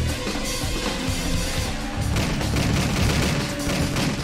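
Gunfire in the Driv3r video game: rapid, loud bursts of shots sprayed continuously, with crashes and impacts mixed into the dense racket and no talk over it.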